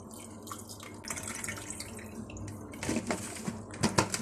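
Cold water is poured for a drink, a close, fairly faint trickle with dripping splashes that grow brighter toward the end.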